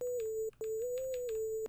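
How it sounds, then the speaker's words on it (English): Pretty Lead synth preset from the Rager Serum Bank sings a smooth, sustained lead line with slight pitch glides, one brief break midway, over faint percussive ticks, with no voices. "Next, guys, we have the Pretty Lead, again from my Rager Serum Bank."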